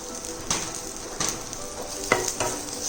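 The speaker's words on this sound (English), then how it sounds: "the chilies are getting roasted" Chilies roasting in a dry pan, a close, crackling sizzle with several sharp scraping stirs and pops at irregular intervals, no voices.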